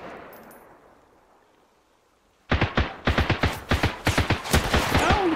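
Gunfire in the video game Sunkenland: after a quiet fading hiss, a rapid series of loud, sharp shots breaks out, about a dozen bangs in quick irregular succession, close and dominant.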